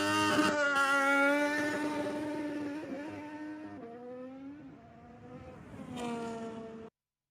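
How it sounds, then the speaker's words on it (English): An Audi Formula 1 car at a Bahrain pre-season testing practice start screams at high revs, its pitch sliding up and down through gear changes before dropping away and then cutting off abruptly at the end. "the Audi is the one that really sounds, I think, the loudest and is really maybe the highest revving one"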